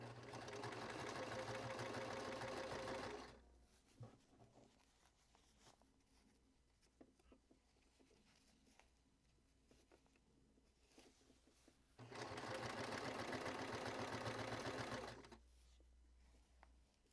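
Home sewing machine stitching fabric casings for an all-in-one style piece, a close steady mechanical whir running for about three seconds, then quiet handling, then another stitching run of similar length.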